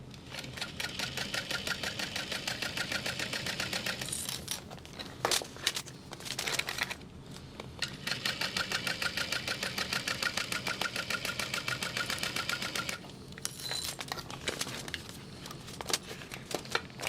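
A sewing machine top-stitches a clear vinyl bag at stitch length 4.5, its needle clattering in a fast, even mechanical rhythm across long runs, with short pauses between bursts.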